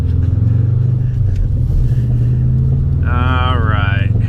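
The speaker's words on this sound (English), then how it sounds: "Whoa, that gains revs fast." A Subaru STI's engine drones and revs with a deep, loud rumble heard from inside the car, and a person speaks briefly over it near the end.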